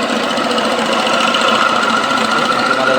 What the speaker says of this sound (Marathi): कंप्रेसर गाळायला चालू झाला आहे.